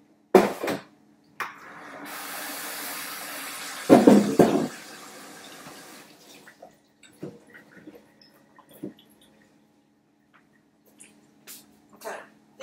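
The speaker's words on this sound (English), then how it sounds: "I'm going to wash them over here." Running tap water splashes as ingredients for Welsh faggots are washed at a kitchen sink, a steady stream lasting a couple of seconds, followed by clinks and a voice speaking nearby.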